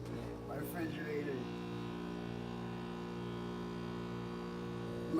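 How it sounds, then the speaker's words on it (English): A steady electrical hum drones on with layered tones, quiet and constant, with a brief higher whine near the start. "My refrigerator."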